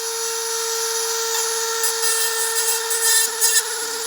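Dremel rotary tool power carving wood, a steady high-pitched whine at raised speed with rasping, scratchy bursts as the bit bites into the wood, close and continuous with no talk.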